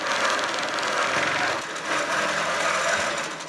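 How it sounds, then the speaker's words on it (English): A sewing machine stitches a Bargello quilt, a steady, close, continuous mechanical whir with a fast needle rhythm throughout. "This marks the halfway point of quilting the Eye of Sauron, just into the eye itself."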